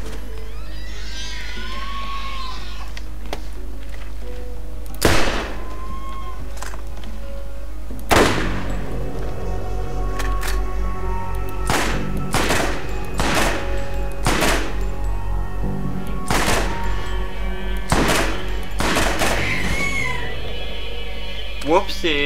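Gunfire in the video game Borderlands, sharp loud shots in irregular bursts punctuating a steady low hum, with someone talking over parts of it.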